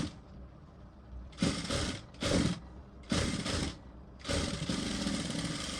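A sewing machine stitches a katori blouse in four steady runs of rapid mechanical chattering, separated by short pauses with a low hum underneath.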